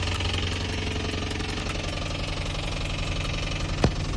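A 6.1 Hemi V8 in a twenty-year-old Chrysler 300 SRT8 rumbles at a steady, lumpy idle after a cold start, loud and close with a rhythmic throbbing pulse throughout.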